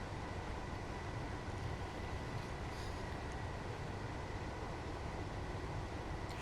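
A train in a simulator game rumbles along in a steady, dense, unbroken drone with no clear clatter or horn, and no one speaks.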